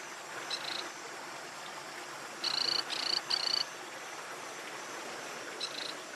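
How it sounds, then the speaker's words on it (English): Torrent frogs call beside fast-flowing waterfall streams, short high chirps in a quick cluster of three with a few fainter calls around them, set against a steady rushing-water background. "Torrent frogs live near fast-flowing streams."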